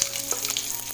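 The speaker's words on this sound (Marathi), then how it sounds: "कडकडीत तापलं आहे. बघा राई टाकली, जिरं, थोडंसं हिंग, कढीपत्ता," Mustard seeds, cumin, asafoetida and curry leaves sizzle steadily in very hot oil, a close, continuous crackle with small pops throughout.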